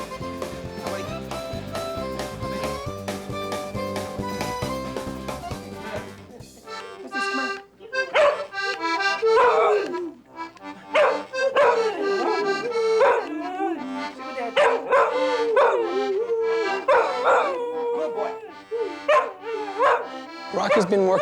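A German Shepherd therapy dog yips, whimpers and howls along to a performance at a seniors' home, its voice rising in repeated bursts after an opening stretch of steady music.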